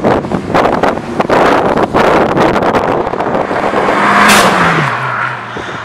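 A light Mitsubishi RalliArt Colt Version R hatchback with a 160-horsepower engine drives past, its engine note rising and then dropping in pitch amid heavy wind buffeting, loud and close with no talk.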